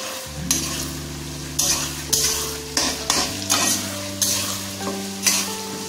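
Tomatoes go into a pan of browned onions for chicken curry and fry with a steady sizzle. A spoon scrapes and stirs in regular strokes about once a second, with faint tones humming underneath.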